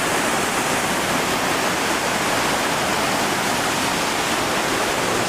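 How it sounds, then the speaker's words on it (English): A waterfall at Vogel State Park roars with a dense, steady rush of falling water, loud and close, unbroken from start to finish. "So here we have the waterfall."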